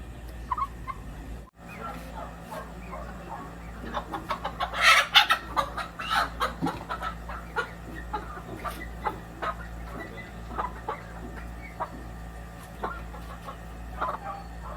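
Young gamecock stags cluck and chatter in a yard, a busy scatter of short calls with a louder burst of clucking midway, fairly close over a low steady background hum.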